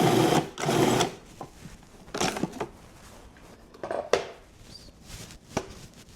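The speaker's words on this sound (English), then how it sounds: "And then we're going to mix it up." Energy bite ingredients with vanilla are mixed in a bowl, giving a few loud bursts of scraping and churning, two long ones at the start and shorter ones after, with quieter gaps between and no speech.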